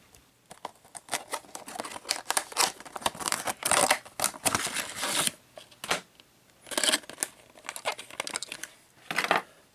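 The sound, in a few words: unpacking a Greenlight die-cast Volkswagen panel van from plastic package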